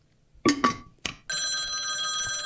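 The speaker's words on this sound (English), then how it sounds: "The phone." A telephone rings in a horror video game, with a couple of sharp clunks and knocks first, then a steady, loud, continuous electronic ring that holds to the end.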